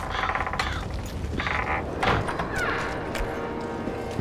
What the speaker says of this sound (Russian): Дверь открывается, блядь.